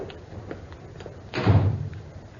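A door closing as a sound effect in a 1951 old-time radio drama: one solid thud with a short broadband rush, louder than the quiet room tone around it and standing alone without talk.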